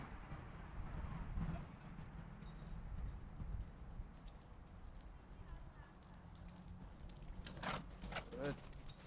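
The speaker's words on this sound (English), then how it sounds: "I love this canter" A classical riding horse cantering during a riding clinic, its hoofbeats thudding in an uneven rhythm at a moderate distance over steady outdoor background noise, with sharper clip-clop hits near the end.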